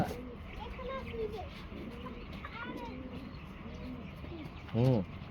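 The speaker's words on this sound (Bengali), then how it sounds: "কবুতরগুলা" Pigeons coo softly throughout amid a noisy background, with one louder, closer coo near the end.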